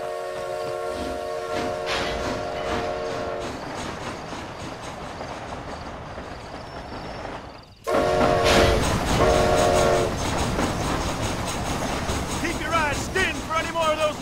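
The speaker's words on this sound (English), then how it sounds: "Train headed for Mexico?" Steam train running in the video game Red Dead Redemption: Undead Nightmare, a steady rumbling roll with clattering wheels and horn-like tones throughout, growing louder partway, with talk over it.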